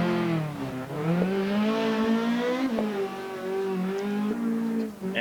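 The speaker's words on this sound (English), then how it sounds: "Jordan on the stage, this time from the outside, looking at the beautiful VGTR Ford Escort." A VGTR Ford Escort rally car is on a Great Britain and Ireland Rally Championship stage, with the engine revving hard and its pitch climbing and falling through gear changes. The car is loud and close, with no voices over it.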